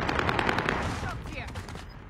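Rapid bursts of automatic gunfire from a video game, loud and dense at first, then thinning into scattered shots with faint game sounds underneath.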